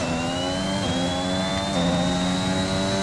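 An F1 car engine on the throttle in an F1 racing game, a loud, steady high-pitched whine with rising harmonic tones and no talking.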